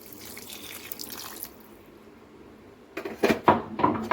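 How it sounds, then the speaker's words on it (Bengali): Hot water, about half a cup, poured into a pan of jackfruit and potato curry: a soft splash and trickle after a quiet stretch, then a few sharper splashing bursts. "হাফ কাপের মতন গরম জল দিয়ে দিলাম"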